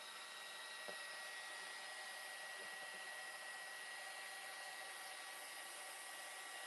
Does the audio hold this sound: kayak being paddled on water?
no